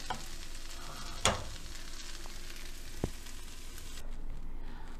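Vegetables for chicken pad Thai sizzle in a hot pan with a steady, dense frying hiss, a couple of sharp utensil knocks breaking through, close and without speech.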